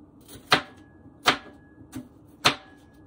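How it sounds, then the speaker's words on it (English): Onion being chopped with a knife on a board, four sharp, evenly spaced cuts ringing out clearly in a quiet kitchen. "Now I'm going to cut up some more onion."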